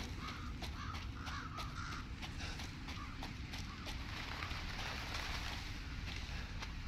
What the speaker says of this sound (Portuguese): É que são corvos?